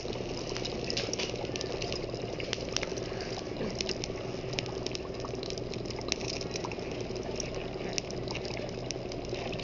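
Dry ice fizzing and bubbling in water, a dense, steady churn of small pops and gurgles that stays close and continuous throughout with no talking.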